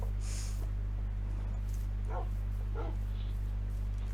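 Tamed dogs in the video game Minecraft barking and yipping in a few short bursts over a steady low game hum, fairly faint, with no talking.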